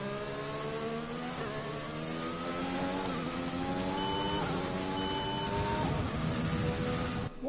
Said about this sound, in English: Did my gearbox just double shift?